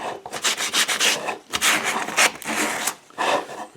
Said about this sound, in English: Just need a little bit here to take the sharpness of the edge off. And that's sanding.